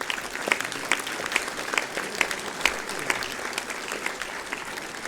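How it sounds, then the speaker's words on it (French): An outdoor crowd at a 18 June commemoration in Dourdan applauds the town's music society, with steady, moderately loud clapping whose individual claps pulse in a loose rhythm throughout. "On peut vraiment aussi vous applaudir"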